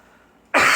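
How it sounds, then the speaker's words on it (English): A single sharp, close cough bursts out abruptly after a moment of near silence. "that cough is from like I've been ill earlier this season"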